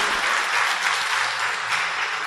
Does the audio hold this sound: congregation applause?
yes